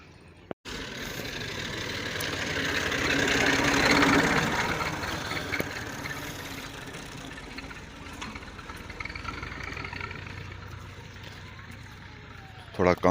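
A tractor engine idles at a steady chug while its trolley is loaded with soil in a village, swelling slightly louder midway and then settling, with voices speaking over it.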